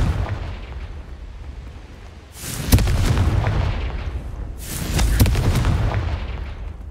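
Confringo fire spells exploding in the Hogwarts Legacy game during Merlin trials, two heavy booming blasts a couple of seconds apart over a low rumbling background, with no speech.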